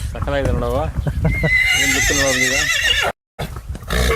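A horse at a stable in Karnataka neighs loudly and close, several wavering whinnies in quick succession, followed by snorts and shuffling after a brief gap.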